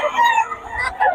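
At a chicken market a single rooster crows close and loud in a short, wavering call with a brief pause before a final rising note.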